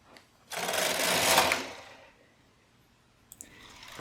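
A knitting machine carriage on a standard gauge machine is pushed across bulky yarn, giving one long rasping, whirring slide of about a second and a half, close up, followed by a few faint clicks.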